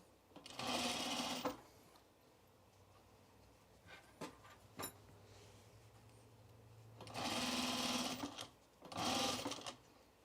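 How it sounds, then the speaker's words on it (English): A sewing machine stitches along the zipper fly curve of a pair of trousers, with three loud running bursts of stitching separated by quieter pauses and a few handling clicks, and no talk. "we're going to stitch it on the side of the zipper towards the curve, fly curve"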